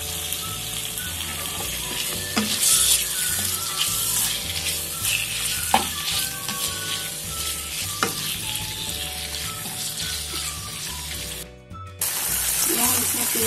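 Chicken pieces fry in two tablespoons of hot oil for a crispy chicken half-moon filling, a steady broad sizzle with occasional stirring scrapes and a few sharp crackles, close and continuous, with music playing faintly underneath.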